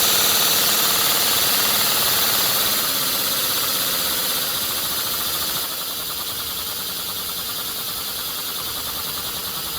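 An inline four-cylinder engine driven by an air compressor chugs at low RPM, a loud, steady mechanical drone with rapid rhythmic pulsing that eases slightly lower partway through, with no talking.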